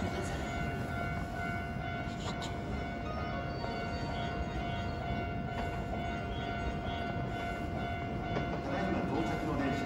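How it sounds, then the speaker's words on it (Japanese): A Hankyu Kobe Line local commuter train bound for Kobe-Sannomiya rumbles into the station steadily with a constant roar and faint high-pitched squealing tones, the noise holding level throughout with no clear talk. "ただいま到着の電車は各駅列車神戸三宮行きです。"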